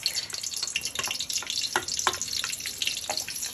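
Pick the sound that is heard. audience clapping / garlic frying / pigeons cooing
garlic frying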